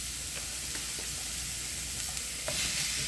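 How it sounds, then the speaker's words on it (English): Ground turkey and peppers sizzle steadily in a hot skillet, a constant frying hiss with occasional faint stirring clicks and a slight swell near the end. "let me add in the turkey"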